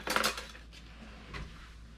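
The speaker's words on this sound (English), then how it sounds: "And I'm just going to mix this cocoa in." A spoon clinks against a bowl while cocoa is mixed into baked oats, a bright quick scrape and rattle at the start, then fainter taps and stirring over a low hum.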